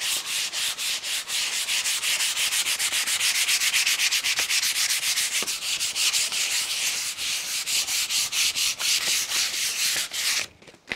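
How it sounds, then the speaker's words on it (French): Paper being sanded by hand to prepare a support for painting, a continuous close rasping rub with quick back-and-forth strokes, steady and fairly loud throughout, stopping near the end. "c'est bien de poncer un peu"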